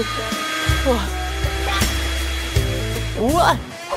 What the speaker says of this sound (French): j'ai besoin d'un sèche-cheveux pour me réchauffer